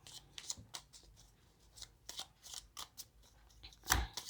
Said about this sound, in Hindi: चलिए इसको थोड़ा सा मैं शफल कर देती हूँ, आधे आधे करके शफल करते हैं क्योंकि बहुत सारे कार्ड्स हैं